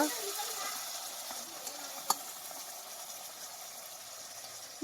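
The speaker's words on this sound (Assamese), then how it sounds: "এতিয়া ধুনীয়াকৈ ভাজি পনীৰ আৰু আলু দি দিব" Paneer and potatoes fry in a pan with ginger and chilli, giving a steady, soft sizzling hiss throughout, broken by one sharp utensil tap midway.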